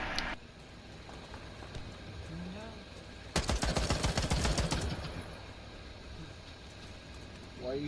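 Gunfire in the online shooter Warface during its Easter egg-hunt event. A loud, rapid automatic burst of about a second and a half cuts through quieter game ambience.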